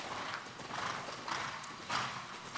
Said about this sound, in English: Can you guys hear the horse breathing? Snorting?